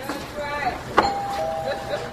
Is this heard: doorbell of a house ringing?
yes